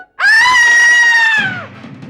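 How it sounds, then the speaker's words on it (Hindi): A woman lets out one loud, sustained, high-pitched scream that holds steady and then drops off sharply, with a quiet background after it. "ये तो मेरी मम्मी की चीख लगती है।"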